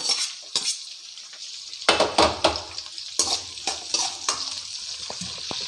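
Onions fry in a pan while a metal spoon stirs and scrapes them, giving bursts of clattering utensil strikes over a light sizzle, close and distinct.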